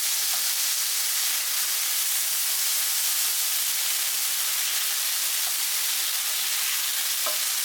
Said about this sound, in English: And grill them for another 30 seconds.